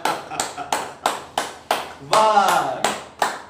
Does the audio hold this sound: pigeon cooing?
no